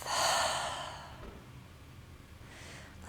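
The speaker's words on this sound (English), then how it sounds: "Exhale, let it go out the mouth." A single long exhale through the open mouth at the end of a seated yoga hip-opening practice, a breathy close whoosh that peaks early and fades over a second, followed by quiet room tone.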